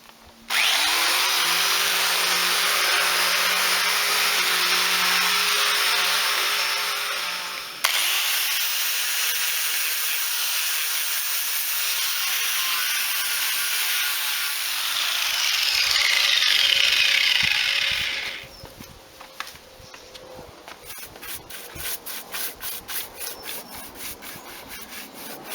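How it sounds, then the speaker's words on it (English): A steady, loud whir of an electric sander running continuously across pallet wood for a shed sign, with its pitch shifting as pressure changes, then winding down into sparse scraping and rubbing at the end. "give it another sand with the sander"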